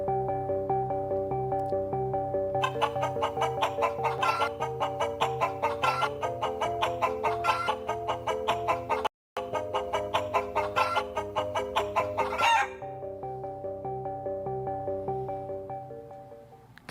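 A rhythmic, synthetic-sounding loop of chicken clucks repeats steadily over a sustained harmonic drone, breaking off once with a brief silent gap, then carrying on before the clucking stops and the drone fades out.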